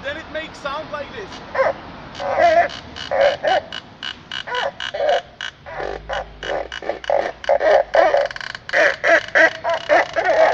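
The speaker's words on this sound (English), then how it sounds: "You can also let the string completely loose and then it makes sound like this." A completely slackened string on a friction string instrument, played in a street setting in Prague, giving rapid, wavering, bark-like squeals and creaks in an irregular rhythm, loud and close, with a voice speaking briefly at the start.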